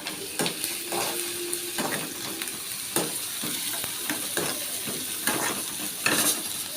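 Onions sautéing in a pan, a steady soft sizzle broken by repeated scraping stirs of a spatula against the metal, close and fairly quiet with no talking.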